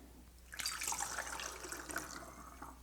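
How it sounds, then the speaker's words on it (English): Three-quarters of a cup of water poured through a funnel into a bottle for a homemade all-purpose cleaner, a steady close trickling splash lasting a couple of seconds with no talk. "You're going to put in 3/4 of a cup of water."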